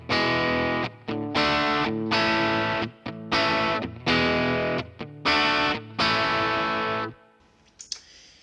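An electric guitar through a Tube Screamer overdrive model on a Line 6 POD HD500X chugs out thick, gritty chords in regular repeated stabs, then rings off into a short, quiet tail.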